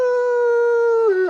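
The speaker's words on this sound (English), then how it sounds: "So he's just alarm barking and howling." A mid-content wolfdog at a wolf sanctuary lets out one long, sustained howl, loud and close, holding a steady pitch before dipping at the end, with no voices.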